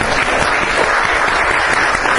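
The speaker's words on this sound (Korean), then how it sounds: "우리 박수 한번 보내드리겠습니다." Steady, loud applause from a church congregation for the choir fills the whole moment, dense clapping without pause and no talking over it.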